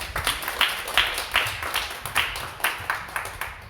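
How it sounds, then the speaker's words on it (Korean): A church congregation claps for the pastor after an afternoon worship service, a steady run of fairly close hand claps with a rhythmic pulse and no talking over it. "다시 한번 말씀을 전해주신 오명민 목사님께 큰 박수를 부탁드리겠습니다."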